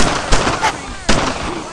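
Gunfire in a video game skirmish, with two sharp loud shots about a second apart, close and forceful over noisy battle ambience.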